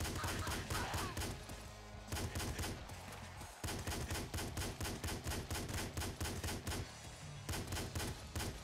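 Rapid, relentless gunfire from the top-down shooter Nuclear Throne, a dense, loud stream of overlapping game shots that barely lets up, with a couple of brief dips in intensity.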